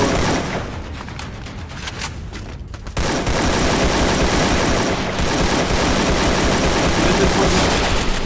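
Dense, loud gunfire crackles in a battle royale video game, with continuous rapid shots that pause briefly and then resume.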